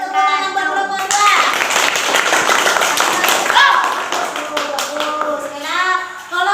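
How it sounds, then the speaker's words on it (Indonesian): A classroom of children claps together for a student group, with a dense burst of close hand claps lasting several seconds, and children's voices and singing heard at the start and end. "Tepuk tangan buat kelompok 2."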